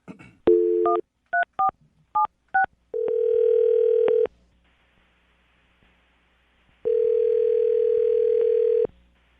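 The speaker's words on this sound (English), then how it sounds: "Dial the phone number right now." A telephone line gives a short burst of dial tone, then a quick series of DTMF keypad tones as a number is dialed, followed by two long steady ringback tones separated by silence.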